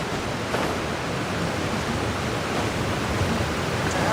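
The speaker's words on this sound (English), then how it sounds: "with the force of this waterfall, there's no way we're getting through" Rushing waterfall in the video game Genshin Impact, a steady broadband roar of falling water that stays even and continuous throughout with no talking.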